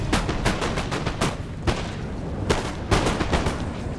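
Musket volleys crackle across a Napoleon Total War battlefield, many sharp overlapping shots in irregular bursts with a few louder cracks standing out, close and continuous.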